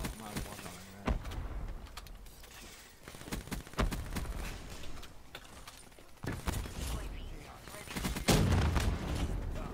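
Rapid gunfire and sharp explosive bangs crackle in dense bursts in Call of Duty: Black Ops III, some loud and close, others scattered, forming a chaotic battle din.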